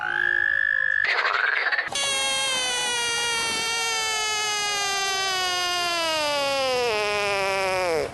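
Recorded frog calls play loud and up close: a tonal croak, a brief rough burst, then one long sustained, harmonically rich call that slowly drops in pitch, with no talking.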